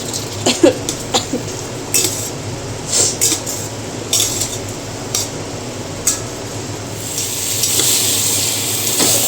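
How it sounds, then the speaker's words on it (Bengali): Potatoes fry in spice paste in a thin wok while being stirred, with a steady loud sizzle broken by repeated metallic scrapes and knocks, then a smoother hiss toward the end. "দেখো মশলার সাথে আলুগুলো বেশ সুন্দর করে কষানো হয়ে গেছে"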